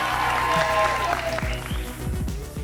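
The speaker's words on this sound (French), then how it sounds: "je vais vous demander de faire beaucoup de bruit pour les bleus" Stadium crowd clapping and cheering for the French national football team at a friendly match, a dense burst of applause that builds and continues loudly throughout.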